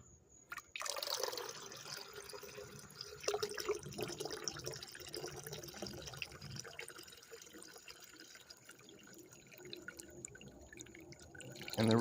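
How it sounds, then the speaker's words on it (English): Liquid, acid, splashes and trickles as it is poured over gold scrap from cellphones, fairly quiet and close, with a gurgling stream that continues unevenly before ending with a louder splash. "now we are going to pour this in"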